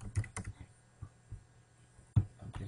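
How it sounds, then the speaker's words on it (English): Sparse keystrokes on a computer keyboard, a handful of quiet separate clicks with one sharper tap near the end, close and alone with no talk. "I'm typing the same thing, cnn.com."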